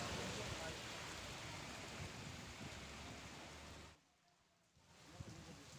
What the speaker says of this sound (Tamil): கும்பகோணம், நாச்சியார் கோவில் உள்ளிட்ட பகுதிகளில் பலத்த காற்றுடன் மழை பெய்தது.